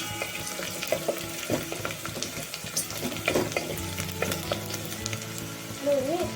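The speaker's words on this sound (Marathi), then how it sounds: "कांदा कधी पण भाजताना छान आपलं सोनेरी रंगावरती भाजून घ्यायचा" Onion frying in oil toward golden, a busy close sizzle with frequent clinks and stirring scrapes, plus brief watery or tap-like noises mixed in.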